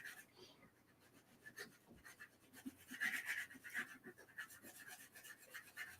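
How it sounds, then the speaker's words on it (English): Sandpaper rubs up and down over the exposed wood of a charcoal pencil, making soft, quick rasping strokes in a close, quiet setting. "I tend to do this up and down sanding"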